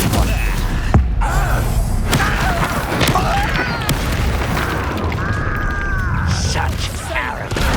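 A spell is cast during a wizard duel in the video game Hogwarts Legacy, and it lands as a loud magical burst and boom over continuous game music and effects, while voices shout in the fight.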